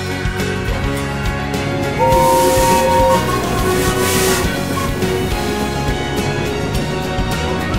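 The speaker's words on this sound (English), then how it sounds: "As the two big engines puffed along the main line" Two steam locomotives double-heading a special train rumble along a main line steadily at close range, with a long, bright whistle sounding midway over the continuous chugging.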